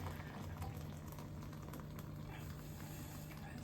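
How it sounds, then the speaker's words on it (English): Water poured into a pot for a tea dye bath, a steady, soft, rushing splash that holds even for several seconds without any speech. "And then let's pour the water in"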